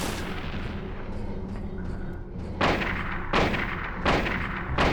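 Gunshots in a video game, a few loud sharp blasts spaced roughly a second apart after a dense rumbling backdrop, each shot with a short decaying tail, no talk over them.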